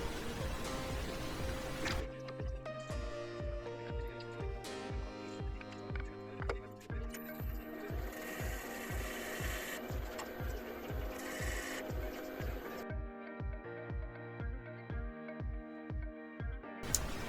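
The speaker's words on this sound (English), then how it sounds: "I'm running the lathe at about 720-30 RPM. I use that speed throughout the different sizes of Forstner bits." Wood lathe turning at about 720 RPM while a Forstner bit drills in, giving a rhythmic, regular chattering whir with a steady pulse under a constant motor hum, fairly faint, no talking.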